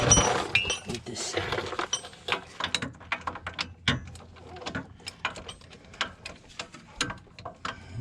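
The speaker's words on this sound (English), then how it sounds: "On the last bolt, just getting it wrench tight." A wrench tightening the last wheel hub bolt on a Dodge RAM 3500 during a wheel bearing replacement, heard as a rapid series of close metallic ratchet clicks and clinks with a faint background hum.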